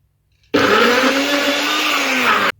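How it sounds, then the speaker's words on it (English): A blender liquefies ginger and onion with about three tablespoons of oil in one loud, steady whir that starts abruptly and cuts off after about two seconds. "Liquefied it up nicely and it started blending properly."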